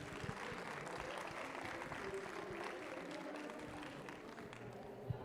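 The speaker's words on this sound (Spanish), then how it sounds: "démosle un aplauso al maestro Benjamín" A crowd applauds steadily throughout, a dense wash of many hands clapping at moderate distance, with a few sharper claps standing out.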